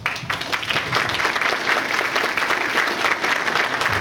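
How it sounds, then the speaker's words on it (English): An audience at the HOPE XI hacker conference applauds as speakers are introduced, a full and steady burst of many people clapping that stays loud throughout. "Give them a round of applause."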